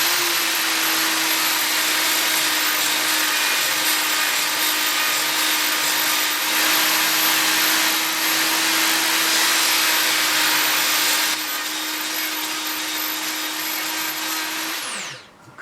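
An auto drill bit sharpener grinds a badly damaged drill bit with a steady, loud motor whine and high-pitched grinding that holds for about fifteen seconds, dips slightly near the end, then spins down.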